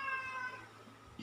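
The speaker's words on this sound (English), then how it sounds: "Yeah, that's my cat." A pet cat gives a single drawn-out meow, fairly faint and alone, with no talking.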